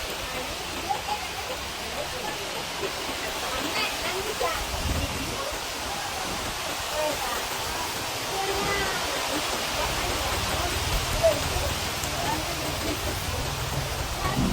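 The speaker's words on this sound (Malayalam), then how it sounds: "ഗംഭീര മഴ കേട്ടോ." Heavy rain falls in a steady, dense roar at a house during a storm, sustained and loud throughout, with a voice speaking intermittently over the downpour.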